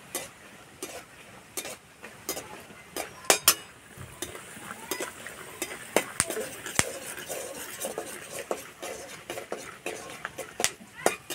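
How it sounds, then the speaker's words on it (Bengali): Red and white peanuts frying in hot oil, sharp irregular pops and crackles scattered over a low sizzle, with occasional clinks of a stirring utensil against the pan. "বাদামগুলো যা চটপট হয়ে ফুটছে।"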